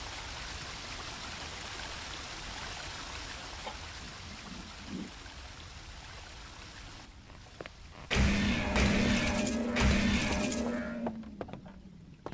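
A waterfall in the video game Shadow Man gives a steady, rushing wash of falling water throughout, with a louder burst of splashing and other game sounds joining partway through.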